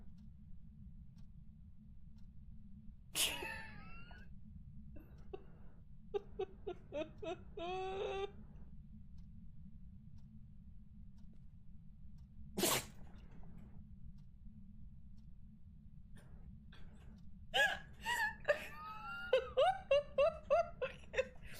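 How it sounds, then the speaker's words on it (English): A dog sneezes twice at close range indoors, two sharp bursts about ten seconds apart, with soft voice-like whimpers and murmurs in between. "The dog sneezed in my face."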